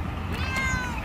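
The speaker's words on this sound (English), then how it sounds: "Look, another kitty." A single short meow from a cat nearby, a clear rising-then-falling cry lasting under a second over faint outdoor background.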